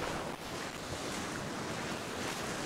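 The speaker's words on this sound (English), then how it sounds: "I think this is just about one of the only beaches that has any waves on it." Ocean waves roll and break on a Sydney beach during fishing, a broad continuous wash of surf mixed with gusting wind noise, fairly faint and distant, with no voices.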